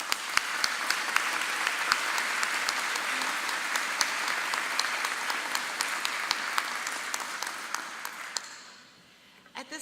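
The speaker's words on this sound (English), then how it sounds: "Graduates, join me now in a round of applause for all those who have helped you achieve your goals." Sustained audience applause at a university commencement ceremony, a dense, steady clapping crowd with some sharp individual claps, lasting about eight seconds before dying away.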